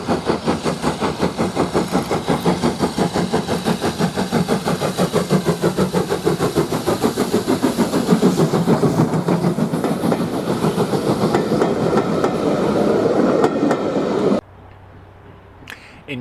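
Caledonian Railway tank steam locomotive 55189 climbs across the Avon Viaduct, its loud, steady exhaust beats pounding in rapid rhythm alongside rail clatter, growing slightly heavier before cutting off abruptly near the end.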